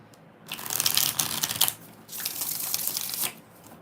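Tarot cards riffle-shuffled in two close bursts, each a rapid crisp flutter of flicking card edges lasting about a second, with a short pause between them and no talking.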